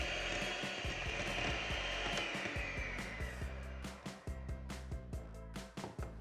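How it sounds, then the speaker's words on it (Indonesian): An electric hand mixer whirs briefly through cookie batter as egg yolks are mixed in, a close mechanical buzz that gives way to a series of clunky knocks and taps near the end. "Setelah itu mixer sebentar saja asal tercampur rata."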